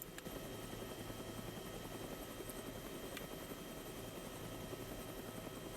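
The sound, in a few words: helicopter flying in DayZ video game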